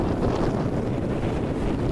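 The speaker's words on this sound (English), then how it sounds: "thought you might appreciate that 22 mile an hour or 22 knot wind gusts all of a sudden" Strong, steady wind gusting to about 22 knots roars and buffets the microphone on a sailboat near a marina, a dense low rumble with faint water and hull noise beneath.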